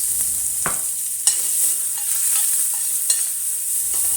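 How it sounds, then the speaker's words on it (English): Cumin seeds, ginger, garlic and green chilies stir-fry over low heat in a pan for aloo gobi, a constant hissing sizzle broken by a few sharp scraping stirs and small pops. "Continue stir fry over low heat until aromatic."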